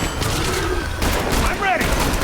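Grenade blast and rapid gunfire from the shooter video game The Bureau: XCOM Declassified, a dense busy barrage of shots and booms with game voices talking over the action throughout.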